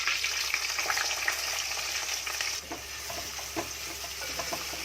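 Three medium chopped onions fry in oil in a close, steady sizzle, with light stirring scrapes and a slight drop in intensity midway, and no voices.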